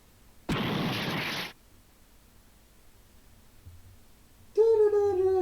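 Explosion effect from the video game Deltarune: a sudden loud hissing burst lasting about a second, then near silence, then a sustained bright electronic tone at the end.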